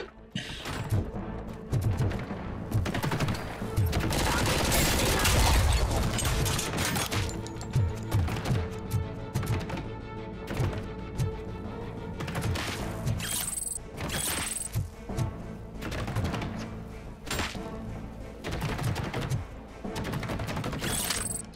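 Enemy gunfire in the Robocop: Rogue City video game, a dense, loud barrage of rapid shots and impacts that runs almost continuously, with heavy bursts and brief lulls.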